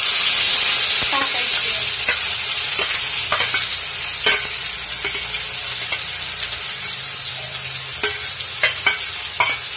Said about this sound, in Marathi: अशी कांदा आणि लसूण अद्रकची पेस्ट केली होती मी तर ती आता मी या तेलामध्ये